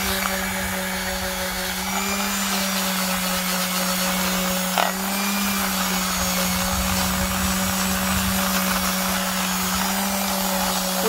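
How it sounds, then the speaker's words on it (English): Steady machine whir of a power sander lightly sanding parts of a 1982 G-body Cutlass, running continuously, loud and close, with a brief knock partway through and no talking. "we're just putting a light sand on them"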